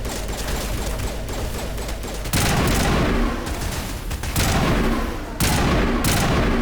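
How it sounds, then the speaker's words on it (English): Bursts of squadmate gunfire in Mass Effect Legendary Edition, loud and close, with sustained volleys separated by brief sharp onsets and a dense roar of shots throughout. "Alenka, are you shooting into my rock?"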